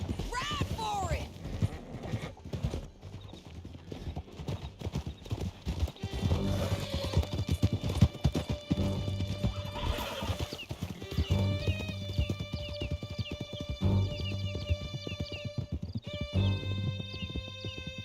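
Hooves clip-clop rapidly as horses gallop in Red Dead Redemption 2, joined by whinnies and game music, while voices speak over the steady hoofbeats.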